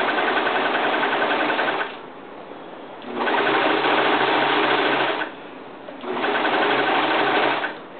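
A sewing machine stitches the sleeve onto the shoulder of a peplum top in three steady, buzzing runs, each lasting a couple of seconds, with short pauses between, close and loud.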